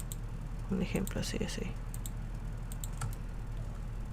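Computer keyboard keys and mouse clicks tap in short scattered bursts during work in clothing-design software for Second Life, with a person speaking Spanish over the clicking.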